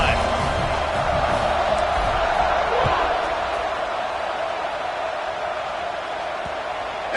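A packed football stadium crowd roars in a steady, loud wash after a touchdown in Wisconsin versus Liberty, the din holding without a break through the whole stretch, with faint voices inside it.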